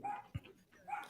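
A small dog barks indoors, heard from outside the house: two short, moderately loud barks with a brief gap, set against quiet outdoor ambience.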